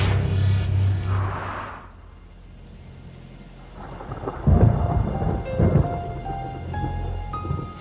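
Thunder rumbles heavily over a rain-swept campus in China, with steady rainfall hissing throughout and a deep rolling burst of thunder building in the second half, close and loud, without any talk.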